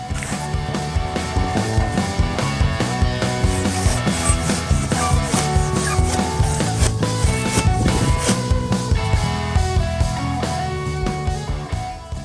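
Hardened epoxy being shaved down on a boat hull, a close, continuous scraping and rasping with repeated rhythmic strokes, no talk.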